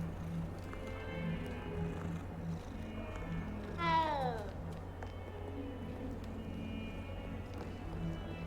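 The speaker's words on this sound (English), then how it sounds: "There's 2 cats now!" One clear cat meow rises and falls midway through the Hogwarts Legacy castle scene, set against a steady game ambience with faint hoof-like clopping and hum around it.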